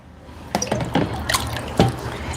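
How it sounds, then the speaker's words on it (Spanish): Water is poured into a pot for a bain-marie, making a sequence of splashy, irregular sloshes and drips that grow louder toward the end, with nobody talking. "Voy a ponerle agua."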